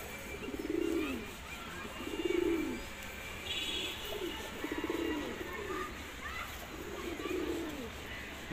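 A newly paired couple of pigeons, an older female with a new male, coo in repeated low rolling phrases about every two seconds, close by over a faint background hum and a brief chirp.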